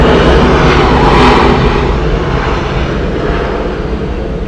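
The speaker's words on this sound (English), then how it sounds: "Arriving here, Delta Airlines Flight 798 from Denver, Colorado. It's a 2 hour and 23-minute flight on an Airbus A321." A six-year-old Delta Air Lines Airbus A321 arriving at Atlanta Hartsfield-Jackson airport on a flight from Denver gives a loud, steady, broadband engine roar that holds close for the whole stretch and eases slightly toward the end.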